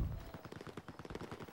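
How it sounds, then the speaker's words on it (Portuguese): Rapid gunfire in the video game Battlefield 4, a steady automatic burst of closely spaced shots running the full length, fairly close and alone with no talk over it. "Ó, tiro. Tiro de raspão."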